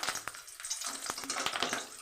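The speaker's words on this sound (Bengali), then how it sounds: "ওই তেলে কতগুলো কারি পাতা দিয়ে দিলাম" Curry leaves hit hot oil after peanuts have been fried, giving a busy crackling sizzle with sharp pops and spits scattered across it, close and fairly loud, with no talking.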